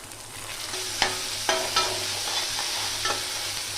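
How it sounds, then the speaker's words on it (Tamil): Onion and tomato sauté in a pan for a green turkey berry curry, with a continuous sizzle broken by several sharp scrapes and clinks of a spatula stirring. "வெங்காயம் நல்லா வதங்கிச்சு. தக்காளி போட்டுக்கலாம்."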